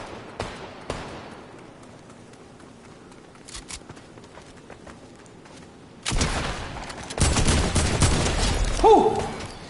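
Gunfire rings out in the Fortnite video game, a few sharp distant shots early, then a sustained loud burst of rapid fire in the second half, with footsteps and scattered game effects between.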